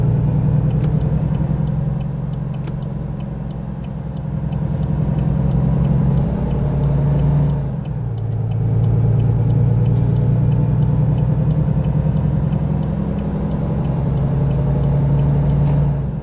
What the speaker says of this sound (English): this truck definitely knows it's got a weight on its tail